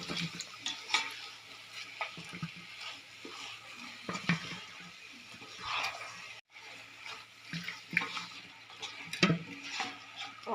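Chicken frying in a pot for dum biryani sizzles softly while a spoon stirs and scrapes at irregular intervals, close and moderately quiet, with one brief break partway through.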